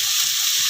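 Onions frying in a pan with a spoonful of salt give a steady, bright sizzle throughout, with faint low clatters of stirring now and then.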